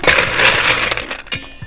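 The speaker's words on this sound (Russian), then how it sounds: "первым делом мы отправляем в стаканы лед, чтобы стаканы начали уже остужаться" Ice cubes tumble into cocktail glasses for a Bloody Mary with a bright, crunchy clatter, then a few sharper clinks as the cubes settle. The sounds are close and loud with no talking.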